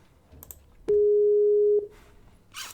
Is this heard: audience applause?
no